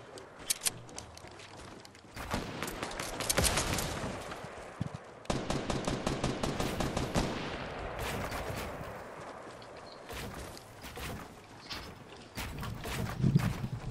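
Gunfire in the video game Fortnite during a squad match, with a sharp early shot, then two long stretches of dense, loud automatic bursts and rapid volleys, followed by scattered lighter shots near the end.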